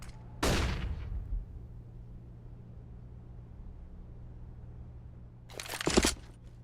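A flashbang grenade is thrown in CS:GO during a PGL Krakow 2017 match, giving a sharp burst near the start and a second bright crack and clatter near the end over a steady low game hum.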